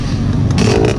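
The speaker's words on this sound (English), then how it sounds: "You can start your bike." Motocross bike engine at a Ridge MX race, a loud continuous rough motor rumble very close by, with no talking.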